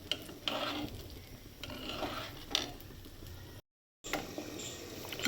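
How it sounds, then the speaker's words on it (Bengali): A spoon stirring Bengali-style khichdi of lentils and rice in a pot, scraping along the bottom in a few slow sweeps, close and fairly quiet, with a brief drop-out near the end. "তাই জন্য আমি একটু ভালো করে নেড়ে দিচ্ছি তলা দিয়ে"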